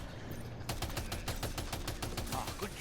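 Rapid bursts of automatic gunfire in Death Stranding 2, shooting at a Disruptor, a fast even rattle of close, loud shots running for about two seconds after a short pause.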